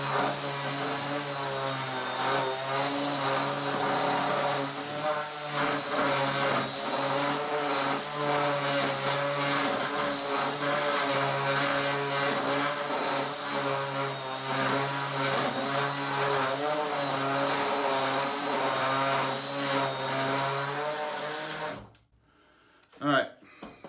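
A DeWalt 20V orbital sander fitted with 80-grit paper works over rough, chainsaw-marked sawmill wood, humming with a steady buzzing drone that stops abruptly near the end.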